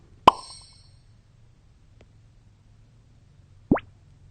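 Two quick pop-like plops from a phone editing app's effects library for a vanishing effect: a sharp, bright first plop, then silence, then a second rising, whooshing plop about three seconds later, both alone and fairly quiet.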